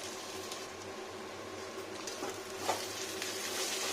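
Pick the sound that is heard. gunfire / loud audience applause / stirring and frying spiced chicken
stirring and frying spiced chicken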